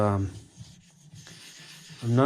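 Knife edge refreshed on a sharpening stone with a medium slurry, producing a soft, steady gritty rubbing between louder moments of talk at the start and end.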